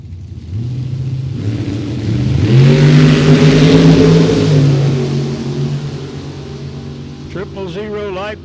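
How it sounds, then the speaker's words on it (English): A 1990 Camaro drag car launches down the right-hand lane of a drag strip at a Super Pro race. A loud engine roar swells and rises in pitch, then fades as the car pulls away, with an announcer's voice over it. "Gene Reynolds, it's 90 Camaro, right-hand lane."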